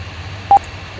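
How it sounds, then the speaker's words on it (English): An alarm on a Kongsberg ship engine simulator sounds as a single short electronic beep, clear and close, over a low steady machinery hum, with no talking. "That is the alarm."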